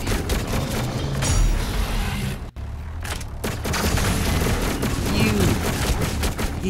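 Rapid bursts of gunfire from the Doom Eternal video game crackle almost continuously, loud and close, with a brief dropout in the middle and some speech mixed in underneath.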